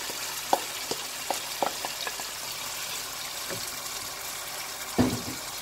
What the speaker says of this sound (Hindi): अब इसमें हम अपना मैरिनेटेड चिकन जो हमने मैरिनेट करने रखा था 15 मिनट्स के लिए वो डाल देंगे